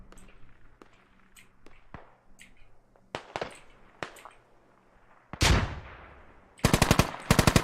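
Machine gun fire in the tactical shooter game Squad: scattered single shots and short bursts build to a loud, rapid burst of automatic fire near the end, with no talk.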